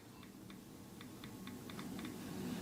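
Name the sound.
typing a message on phone keyboard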